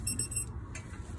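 A torque wrench clicks a few times in quick succession as it reaches 40 on a Honda front wheel hub and spindle knuckle, with sharp, close metallic ticks over a low background hum.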